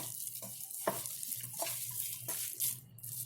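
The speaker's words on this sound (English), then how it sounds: "Mix softly" Radish ball mixture being mixed softly by hand in a bowl, giving quiet, irregular squishy stirring strokes over a steady low background hum.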